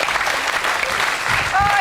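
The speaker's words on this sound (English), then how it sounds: "But round of applause anyway for Eric Paladino" A TV show's studio audience claps warmly, a steady burst of applause with a few cheers on top while a presenter's voice carries over it.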